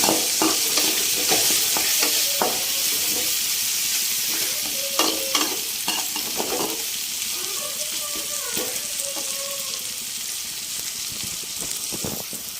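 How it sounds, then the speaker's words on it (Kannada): Chutney frying in a pan gives a steady sizzle under repeated scraping and stirring strokes, with brief clinks of the utensil against the pan. "ಚಟ್ನಿನ ಇವಾಗ ಚೆನ್ನಾಗಿ ಫ್ರೈ ಮಾಡ್ತೀನಿ"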